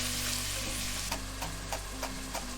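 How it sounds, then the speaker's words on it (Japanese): Carrots stir-frying on low heat crackle with a soft steady sizzle, punctuated by several light scrapes of a utensil at a regular pace. "人参も弱火で丁寧に炒めます"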